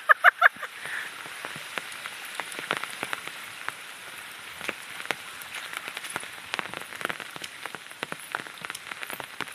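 Steady rain patters on a surface outdoors, a dense wash of drops with sharper individual ticks scattered throughout, continuous and fairly close, with a few brief clicks at the start and no clear talk.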